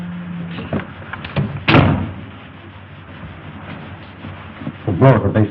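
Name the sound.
door being closed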